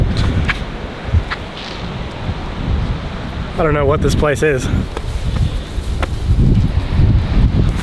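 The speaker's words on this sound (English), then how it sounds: "it's like extremely windy over here" Strong wind buffets the microphone on top of a tunnel, a steady loud roar with gusts that swell and fade, while someone speaks briefly partway through.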